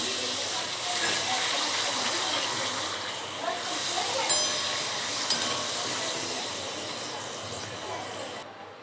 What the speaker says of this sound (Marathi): पापड तळून घेऊया